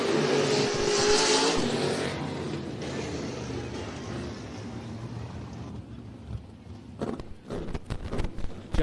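Sprint cars at the RaceSaver Nationals on a dirt track, a loud engine roar sweeping past and fading into a distant drone, then sharp gusty bursts near the end.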